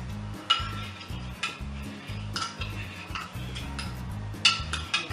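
Spoon stirring a homemade lemon and lime cleaner mixture in a container, a run of rhythmic clinks and scrapes at close range with a few sharper taps, no voices.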